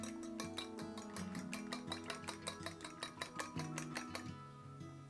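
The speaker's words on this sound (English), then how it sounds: "I beat 2 eggs with some salt" Two eggs and salt are beaten in a bowl with a rapid, steady run of light clinks against the dish, playing under soft background music with no talking.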